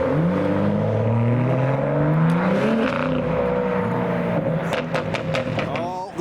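Car engines, including a BMW M2 and a Porsche 996 Turbo, rumble and rev as vehicles pull away from a car meet, the pitch climbing and falling, with crowd noise and voices in the background.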